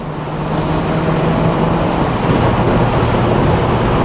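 A Mercedes R171 SLK200 drops a gear and pulls away, giving a steady, fairly loud engine drone and road rumble that builds slightly and holds without clear breaks.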